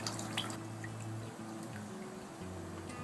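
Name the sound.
water dripping from squeezed spirulina screen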